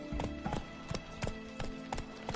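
Roach, the horse in The Witcher 3: Wild Hunt, gallops in a steady, rhythmic clip-clop of hoofbeats at moderate distance, set against game ambience.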